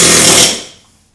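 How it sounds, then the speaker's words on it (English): An air hammer working on a seized wheel hub nut on a TJ Jeep Wrangler: a loud, dense rapid pneumatic hammering burst lasting about half a second, then cutting off and fading quickly with no talk. "I was able to finally break it free with an air hammer."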